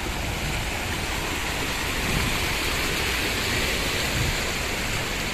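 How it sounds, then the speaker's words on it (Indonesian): Heavy rain pours outdoors in a flood-hit area near Semeru, a dense, loud, unbroken hiss of falling water with no voices and no breaks. "Ini sudah mulai turun hujan."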